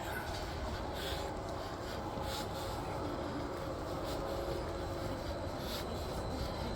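A train arrives at a station in Norway, rumbling steadily nearby, a continuous low roar of wheels and carriages with faint metallic squeals.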